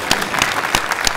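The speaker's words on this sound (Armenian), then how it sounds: "մի հատ բարձր ծափարենք" A studio audience claps for a guest on an Armenian television talk show, a short burst of dense, lively applause with a few sharper individual claps standing out.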